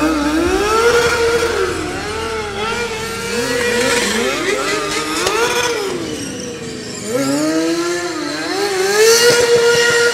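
Sport motorcycles weighing about 170 kg rev repeatedly at an outdoor stunt show, their loud engines rising and falling in pitch as they run, close and continuous.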